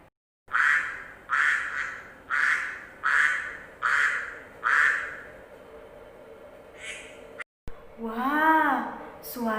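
A duck quacks in a rapid series of about eight nasal calls, close and fairly loud, followed by a brief break and a warbling, pitch-swooping call that sounds like a voice or toy imitation.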